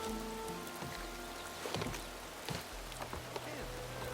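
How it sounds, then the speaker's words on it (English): Rain falling in the Horizon Forbidden West video game, a soft steady patter with scattered drops under low ambient rumble, faint and continuous. "Don't mind the rain."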